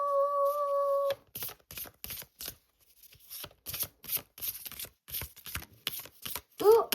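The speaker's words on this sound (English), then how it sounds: "Give these a good shuffle." Tarot cards riffle and snap in quick irregular bursts, close up, after a short steady tone at the start; a brief voice sound comes near the end.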